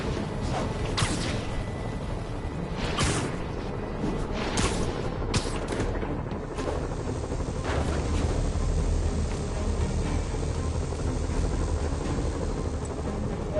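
Helicopters in the Marvel's Spider-Man video game give off a constant low mechanical drone across a city soundscape, with whooshing swings and occasional sharp clanks and creaks over the top.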